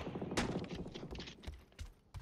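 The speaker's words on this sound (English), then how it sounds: "You hear them gunshots behind us?" Gunfire crackles from behind the players in a video game, a burst of several rapid shots followed by scattered single shots at mid-distance, with no one speaking.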